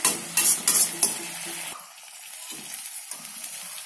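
Onions sizzle in a pan for idiyappam egg biryani, with a few sharp scrapes and clatters of a spoon stirring early on, then a softer steady frying hiss carrying alone.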